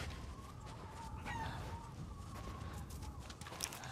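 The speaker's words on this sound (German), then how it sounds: "Hühnchen, Hühnchen, Hühnchen," Chickens cluck softly in a rural area in the survival horror game Resident Evil Village, scattered short calls over a steady low background.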